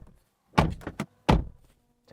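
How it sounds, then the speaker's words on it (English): Door of a 2024 BMW M3 Touring closed with a solid, deep thunk, followed by a second firm shut a moment later, close and loud against otherwise quiet surroundings. "Door slam."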